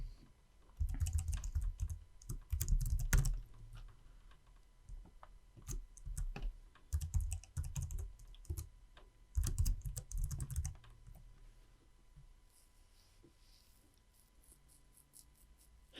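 Computer keyboard typing in bursts of rapid clicking keystrokes, close and fairly loud, alternating with short pauses, during a spreadsheet software lesson; no one talks over it.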